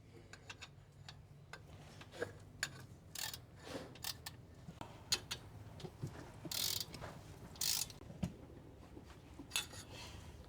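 Ratcheting and metallic clicking come from tightening exhaust bolts on a Chevrolet Sonic during an exhaust upgrade, heard as intermittent close ratchet bursts with tool clinks at a quiet level.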